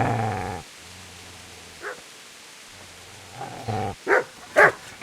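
Dog barking and growling in medieval Bohemia in Kingdom Come: Deliverance, a low growl held under and between a few sharp barks that come in a quick cluster near the end.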